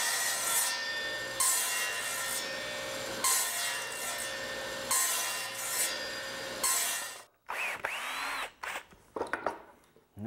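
A power saw cuts log pieces for bench legs, with its blade set at 0 degrees. Several loud sustained cutting bursts are separated by brief pauses, then clunks and rustling as the wood is handled.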